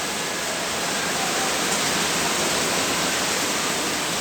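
Steady rain falls in a dense, even hiss that stays constant and fairly close, with no voices over it.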